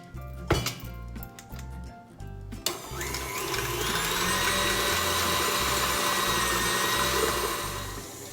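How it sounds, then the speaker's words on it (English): A stand mixer beats sugar on high speed, starting after a few clinks and knocks, then settling into a loud, steady whirring drone that runs to the end; no talking. "put that in the mix master and mix that for 5 minutes on high"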